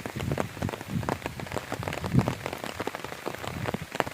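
Rain falls on a green village, a steady close patter of drops hitting surfaces with scattered louder splashes and drips, with no voices.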